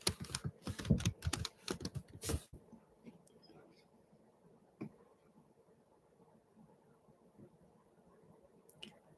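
Quick typing on a computer keyboard, a dense burst of clicks for the first couple of seconds, then mostly quiet with low background murmur and an occasional faint tap.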